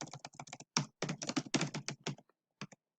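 Rapid clicks of typing on a computer keyboard, close and clear, in quick uneven bursts with short pauses, trailing off into a few final keystrokes.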